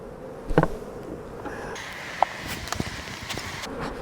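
Many honey bees hum and buzz steadily nearby at an open hive, with occasional light knocks and frame-handling sounds over the continuous drone.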